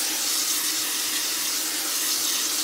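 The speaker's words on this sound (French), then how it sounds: "Regardez le jet et regardez à quelle allure le seau se remplit." A tap's water jet pours into a bucket, a loud, steady, close hiss of running and splashing water with no break and no voices.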